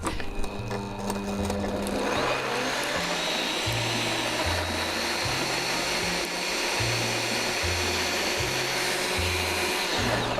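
A blender mixing a strawberry smoothie with spinach whirs with a steady, loud roar that kicks in after a couple of seconds and runs on continuously, with low thumping tones underneath.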